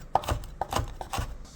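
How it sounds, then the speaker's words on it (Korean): A knife chops Cheongyang chili peppers, seeds left in, on a cutting board with quick, evenly spaced strokes, soft and close, with no voices. "씨를 안 빼고 같이 고추를 자릅니다."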